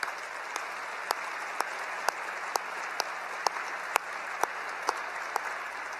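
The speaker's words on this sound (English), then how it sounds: "please let's give them a round of applause" A graduation ceremony audience applauds the faculty, a steady wash of distant hall clapping punctuated by a few sharper, nearer claps at a regular pace.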